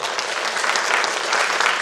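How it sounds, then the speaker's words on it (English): Audience applause following a book talk, a dense, steady wash of many hands clapping at close range, holding even loudness throughout the short burst with no voices over it. "One more round of applause."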